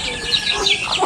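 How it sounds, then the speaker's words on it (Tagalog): Chickens on a small farm clucking close by in short, choppy calls, several quick bursts overlapping within a second. "ang ating mga chicken manok"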